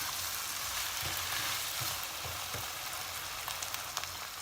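Rice for stuffed peppers sautés in a pan with a steady frying hiss and soft crackle, plus a few light stirring clicks toward the end.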